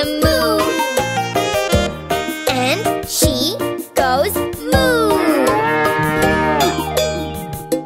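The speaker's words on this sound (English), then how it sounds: "Her cow's called Lola" A cow's moo repeats through a cheerful nursery song, several long bellowing calls mixed with bright music, cowbell-like tones and sung lines.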